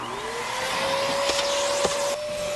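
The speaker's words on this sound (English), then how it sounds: "I vacuum several times a day when I'm home" A household vacuum cleaner runs steadily at close range, sucking up stink bugs indoors, with a constant whine and a few brief rattling clicks as debris is pulled in; no one speaks.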